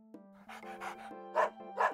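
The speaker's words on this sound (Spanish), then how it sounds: "Dog." A single dog, likely a cartoon dog in a children's animated English lesson, gives a few short, close barks and yips in quick succession, alone with no talking.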